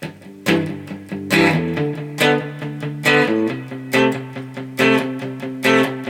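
Electric guitar strums the chord progression of a song, with sharp rhythmic attacks and ringing chords that shift to new chords every second or so, played alone.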